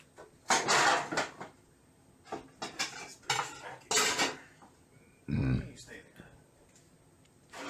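Pots and pans clatter and clank in several loud bursts while being put back into a kitchen cupboard, with metallic jingling between bangs and a deep thud near the end.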